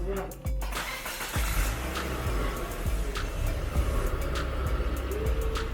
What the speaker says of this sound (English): All right, Ozzy, give her a start.